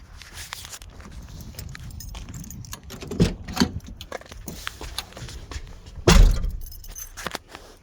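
Keys jangle and clink in a hand near a Ford dually pickup during a headlight repair, with a few light rattles, then a louder metallic thunk about six seconds in, all close and with no talking.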